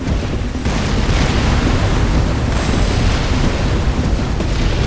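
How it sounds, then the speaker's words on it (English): A Demolisher cannon blows up in the PC strategy game X-Morph: Defense during a Germany mission, a loud, dense rumbling roar that fills the whole stretch without a break. "Demolisher cannon destroyed!"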